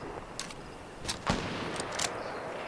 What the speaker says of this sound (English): Freaking semi-auto over here, bro.